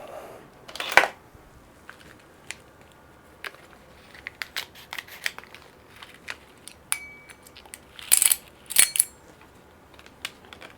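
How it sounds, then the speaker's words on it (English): Scattered sharp snips and clicks of scissors, irregular and fairly close, with quiet pauses between cuts. "Scissors."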